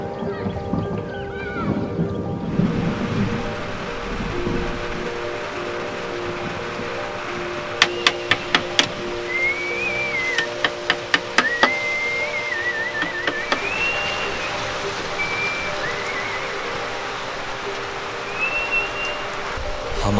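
Steady rain patters across the whole stretch in Meghalaya, India, with a horse whinnying and a few sharp knocks partway through.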